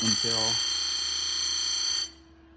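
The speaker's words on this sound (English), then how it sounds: "I just take and hold it right here and just hit it on the grinder" A Simington 451c chain grinder sharpens a saw chain cutter, giving a steady, loud, high-pitched tonal whine that holds for about two seconds and then cuts off abruptly, with no talk.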